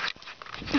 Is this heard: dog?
yes